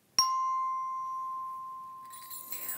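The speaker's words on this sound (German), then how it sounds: "Nun klingeln Glöckchen aus der Ferne." A single bright chime from small Christmas bells strikes once and rings out in a long, slowly fading tone, followed by faint higher jingling near the end.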